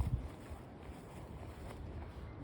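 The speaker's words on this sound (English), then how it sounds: "this wind is just nuts" Strong gusting wind buffets the microphone outdoors beside a gate, a steady broadband roar with low thumps at the start and no talking.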